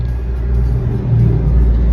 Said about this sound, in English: Here's a big truck.